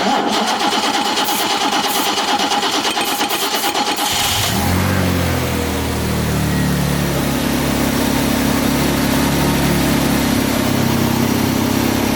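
An old car engine, parked for years, cranks on starter fluid and catches, settling into a loud, steady running roar with some rumble after the first few seconds of starter churning.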